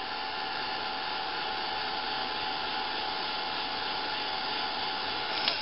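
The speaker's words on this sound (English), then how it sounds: "Heat gun." A heat gun blows steadily to dry flower petals, a constant even whirring hiss at moderate level with no breaks, alone without talk.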